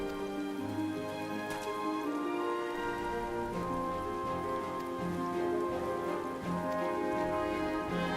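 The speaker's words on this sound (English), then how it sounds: "It rains a lot in Yangsha." Steady rain falling on surfaces in a Final Fantasy XIV cutscene set in Yanxia, a dense continuous patter with occasional drips over a soft musical score, no voices.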